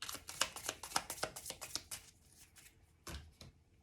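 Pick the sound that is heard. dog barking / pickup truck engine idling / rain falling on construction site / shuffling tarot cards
shuffling tarot cards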